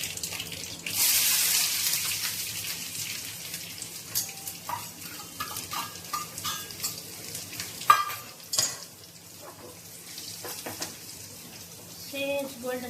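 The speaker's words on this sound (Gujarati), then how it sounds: "હવે એમાં નાખશું લસણ." Garlic dropped into hot oil with popped mustard seeds, a broad sizzle settling into crackling and stirring clatter, with a bit of running water and clinks, close and moderate.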